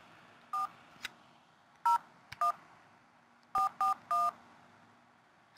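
Touch-tone keypad beeps from a phone on speakerphone, several short dual-tone presses in irregular bursts, clear against a quiet background with no talking.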